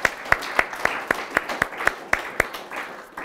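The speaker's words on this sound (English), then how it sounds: "Let's give this man a round of applause." Audience applause during a presentation on renewable energy: sparse, even claps at a quick steady rhythm, moderately close, as if only a few hands are clapping.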